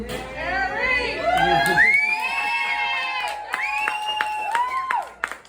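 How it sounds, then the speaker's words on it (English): Comedy club crowd at a stand-up set cheers and whoops loudly, with shouting voices rising and falling over a few seconds before tapering into scattered calls. "Why are you cheering that on?"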